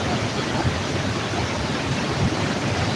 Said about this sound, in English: You can hear really a big sound of the water here